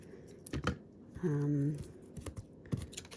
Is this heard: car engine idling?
no